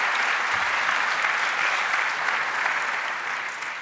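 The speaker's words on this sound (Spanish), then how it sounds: "por favor un gran aplauso a María Jesús por la celebración, la idea," An audience at a tribute to Republican exiles in the Senate breaks into full, dense applause that stays strong and even before easing slightly.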